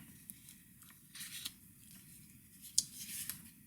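A paper card is scored at the center with a scoring tool, giving faint scratchy strokes and a few small clicks, quiet and close, with no talking.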